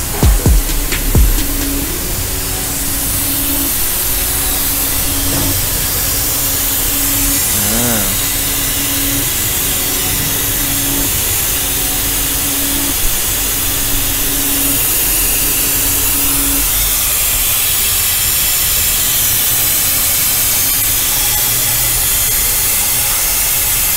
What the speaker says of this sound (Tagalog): Hinihigop kasi nila ng vacuum